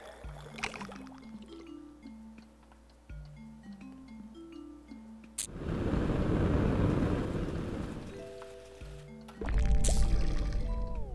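Video game water gushes onto a fire and douses it, a loud rushing splash that surges over light game music, breaks off briefly, then returns in a second heavy burst.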